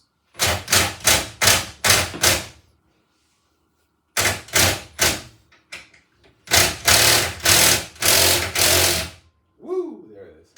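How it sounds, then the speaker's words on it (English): An impact gun breaks loose the mounting bolts of a Craftsman CMXEOCG472 garage door opener, firing in loud repeated hammering bursts: a cluster of short rattling blasts, a pause, then more bursts and a longer sustained run. "I'm using an impact gun to remove these"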